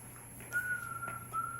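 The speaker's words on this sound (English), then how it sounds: "Listen to that kid whistle." A seven-year-old child whistles a steady, clear, high tone, played back from a home recording, faint and thin over a constant hiss of tape noise.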